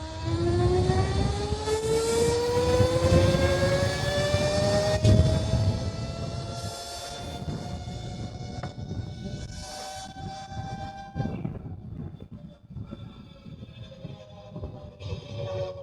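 An RTR Lite RC car fitted with a Trumoto 6+7 powertrain kit and a Revolver Alpha motor drives past with a loud, rising electric whine that climbs in pitch, fades and repeats, with wind noise underneath.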